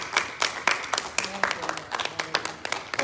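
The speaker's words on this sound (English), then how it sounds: "give the Lord a big clap" A church congregation claps steadily in a quick, irregular rhythm of sharp hand claps, with voices heard over the clapping throughout.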